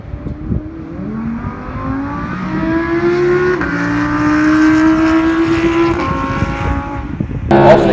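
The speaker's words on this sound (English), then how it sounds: "Now on the gas, let's feel that quattro." An Audi quattro on a race track accelerates with an engine note climbing steadily in pitch through the gears, heard from inside the car, loud and sustained, ending in a sharp thump.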